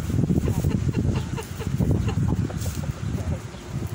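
Livenska chintz hens cluck and murmur in a flock, with soft overlapping calls close by over a steady farmyard background.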